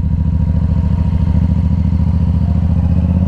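A Yamaha R7 motorcycle engine runs loud and close with a throbbing, steady pulse, holding a fairly even rev with slight rises in pitch and no voices.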